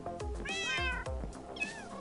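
A Minecraft cat meows several times in quick succession, drawn-out plaintive cries, close and clear with no talking.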